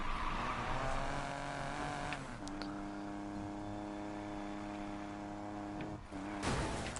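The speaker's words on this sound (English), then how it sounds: "Into the tunnel. Oh, I get that tunnel noise." A car in the video game Need for Speed Payback drives through a tunnel, its engine droning steadily with rising gear pitch and a hollow echoing tone, fairly quiet and with no talk.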